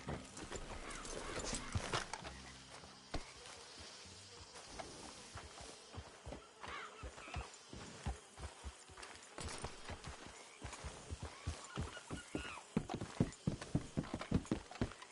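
Horse hooves clip-clop on the ground in Red Dead Redemption 2, a rapid, uneven run of crisp hoof strikes that grows louder toward the end, with a brief whinny early on and game ambience underneath.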